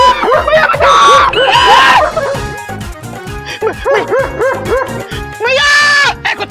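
Several stray dogs bark loudly and rapidly nearby in a continuous, overlapping chorus, and frantic shouting voices come through between the barks.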